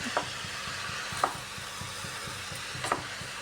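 Ash gourd sautéed in a pan while cooking a ghonto with small shrimp, giving a soft steady sizzle broken by three clear spatula scrapes and knocks spaced about a second apart; no talking.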